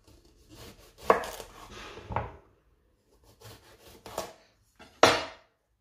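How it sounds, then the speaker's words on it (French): A knife chops through aubergine on a cutting board, trimming off the cap and the far end: three or four sharp, close cuts spread out with quiet pauses between them. "pour les aubergines, on va juste couper le chapeau et l'extrémité"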